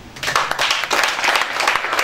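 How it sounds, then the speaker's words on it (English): A church congregation bursts into sustained clapping, dense and steady throughout, with a few scattered voices mixed in. "Give God a clap offering."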